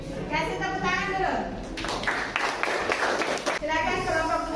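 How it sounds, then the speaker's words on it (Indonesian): A classroom audience of students claps for a finished group presentation, a dense burst of applause lasting a couple of seconds between stretches of voices speaking. "kasih tepuk tangan dulu"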